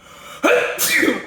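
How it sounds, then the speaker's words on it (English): A single loud, close sneeze: a sharp inhaled catch followed by the explosive burst, with no talking around it. "Hold on, I got a sneeze on deck."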